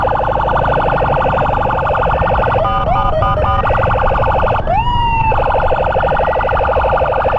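An ambulance siren wails continuously while the vehicle is escorted through traffic at a spot where a passing train blocks the way. The siren is loud and steady, with brief shifts in pitch partway through.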